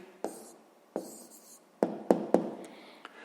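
Pen writing out the answer to a sixth-grade math problem: a few short scratchy strokes in separate bursts, close and quiet, with no talk.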